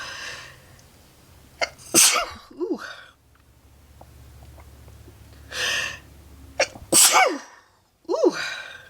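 Several sharp human sneezes from a person with a cold, close and loud, each burst separated by quieter breathing and small gasps, with no talking between them.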